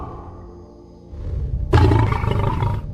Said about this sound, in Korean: 그 으르렁거림은